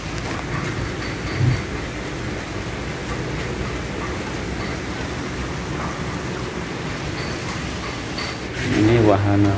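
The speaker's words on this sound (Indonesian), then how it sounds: "Ini sudah hujan lagi." Heavy rain pours down in a steady, dense hiss near an outdoor kitchen in the early morning, with a brief low rumble that could be thunder and a voice speaking near the end.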